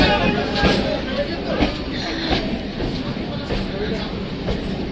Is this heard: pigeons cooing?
no